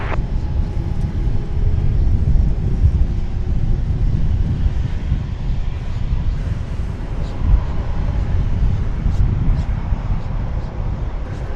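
Aircraft at DFW Airport, heard as a steady broadband roar of a jet engine at a distance, constant throughout with wind noise over the microphone and no clear events standing out.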